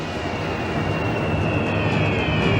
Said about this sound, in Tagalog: Mga eroplano ng Aleman sa paglipas ng Stalingrad daan-daang toneladang bomba ang sumisira sa lungsod.